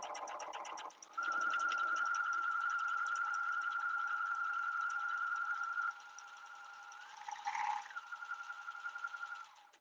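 A sewing machine runs in a long steady burst while piecing a half square triangle quilt block, its whine holding level, dipping briefly near the end, then resuming to the close; no one speaks over it.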